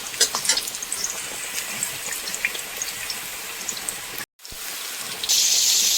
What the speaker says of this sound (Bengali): এবারে দিয়ে দিয়েছি উচ্ছে, আর উচ্ছেটাও সুন্দর করে ভেজে নেব এখন।